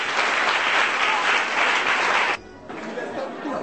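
A church congregation claps loudly in dense, sustained applause that cuts off abruptly partway through, then resumes more faintly amid a murmur of voices.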